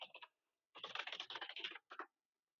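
Quick bursts of typing on a computer keyboard as a password is entered, with close, crisp keystrokes in short runs separated by pauses, in a quiet room.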